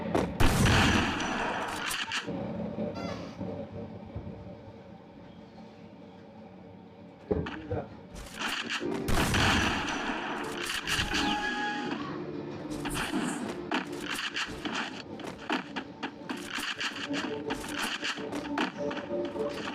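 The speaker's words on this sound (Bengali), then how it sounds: "দেখি এখন হেডশট একটা মারা ট্রাই করবো শটগান দিয়ে।" Shotgun blasts from a first-person shooter video game, with sharp bursts scattered across the clip over continuous game noise and voices.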